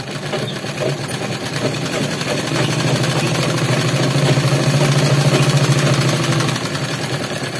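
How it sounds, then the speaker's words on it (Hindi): Sewing machine stitching two layers of fabric together for a toddler's gharara, a close, steady mechanical whirr with a rapid needle rhythm that rises slightly in the middle and runs throughout without speech. "देखिए पहले इन दोनों को इस तरह से बराबर करके सिलाई लगा लेंगे।"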